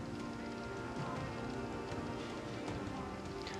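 Steady rain falling in Bandra and Borivali, Mumbai's western suburbs, a dense even patter of drops on surfaces heard from nearby without pause.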